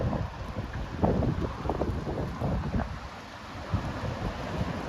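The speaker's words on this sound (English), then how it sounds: "It's starting to rain, so it's getting really windy." Gusty wind of up to 50 mph in Pullman, Washington, with rain starting, buffets the microphone in uneven rushing surges for several seconds, loud and close, with no voices.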